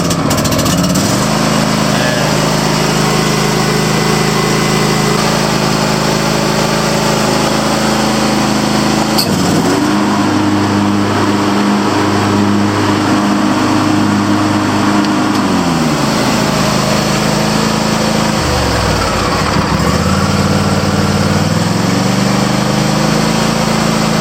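A lawn mower engine running steadily right after being started, a loud, close, continuous droning hum that dips and rises in pitch a couple of times as the throttle changes.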